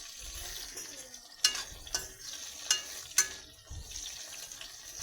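Quiet sizzling from a pan on low flame with a few sharp scrapes and taps as elephant apple for pickle is stirred, spaced irregularly over a soft background hiss.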